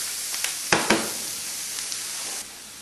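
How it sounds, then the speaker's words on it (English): Green and red peppers, basil leaves and shrimp sizzle in a hot pan as they are stir-fried, a steady close hiss broken by a few scraping stirs before it quiets. "I'm going to stir-fry the vegetables for about 2 minutes with the shrimp."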